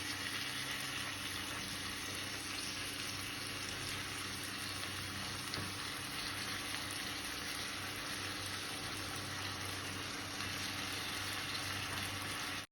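Crushed tender tamarind leaves fry in a pan for a tamarind leaf and dried fish curry, giving a faint, even sizzle with soft crackling throughout and no voices.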